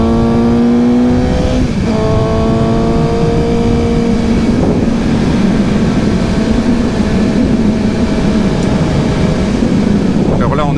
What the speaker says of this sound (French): on entend cette respiration de ce moteur qui est juste génial